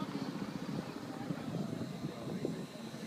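A Bell UH-1 Huey helicopter passes overhead above a campsite tent, a rough steady rotor thump and engine drone that stays fairly loud throughout, with voices faintly mixed in.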